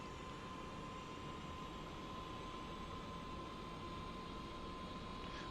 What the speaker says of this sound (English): Wait for that right engine to spool to life